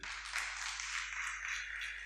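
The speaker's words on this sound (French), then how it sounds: "applaudissez pour eux" An audience at a university conference in Benin applauds, a faint, steady wash of many hands clapping over about two seconds with no talk over it.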